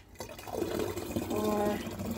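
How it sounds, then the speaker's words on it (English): Apple juice pours into a bottle at home, a steady close liquid stream with a rising filling tone over about two seconds, with faint background noise. "going to pour first some of the apple juice in"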